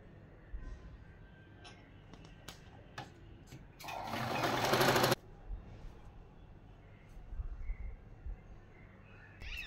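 A sewing machine stitching a blouse whirs in one loud, steady burst of a little over a second, surrounded by quieter clicks, handling noises and faint background sounds.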